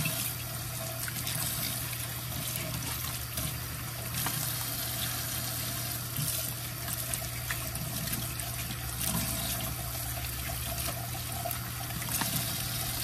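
Pechay leaves being washed under running water, a steady broadband rush and trickle from the tap lasting throughout, fairly close with no talk and a constant low hum underneath.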